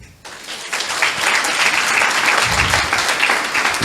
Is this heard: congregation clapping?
yes